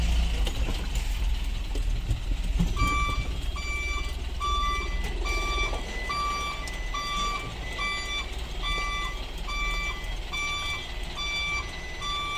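A truck backs up with a steady run of high reversing beeps at an even rhythm, about a dozen in a row, over a low idling engine rumble and general street noise.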